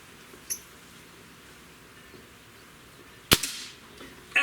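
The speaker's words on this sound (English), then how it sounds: "this gun, this is a Magnum, and it does have a pretty decent recoil on it" A Kral Arms N-11 Magnum air gun fires a single shot: one sharp, loud crack up close after a quiet stretch, followed by a few faint clicks.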